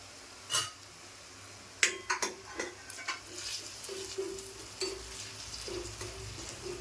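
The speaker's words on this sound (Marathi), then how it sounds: "आता मी कढीपत्ता टाकते." Curry leaves dropped into hot oil over softened onion for a Malvani-style tempering, a few sharp clinks of a utensil on the pan followed by soft, steady sizzling and stirring up close, no talking.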